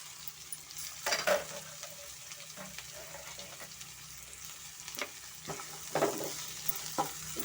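Peas, beans, capsicum and carrot fry in a pan with a soft, low sizzle, punctuated every second or so by gentle stirring scrapes and clinks, quiet and close with no voices.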